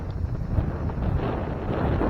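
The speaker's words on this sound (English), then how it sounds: "it got windy all of a sudden" Sudden wind gusts buffet an outdoor microphone at a tractor and farm machinery show, a steady low rumble with rising and falling pressure and no other clear sounds.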